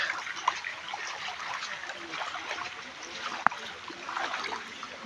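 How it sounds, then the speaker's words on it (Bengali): Steady rain falls on a flooded roadside street where water has pooled and vehicles stand parked in a line, making a continuous soft hiss and patter with one sharp click partway through. "বৃষ্টি কিন্তু পড়েই চলেছে"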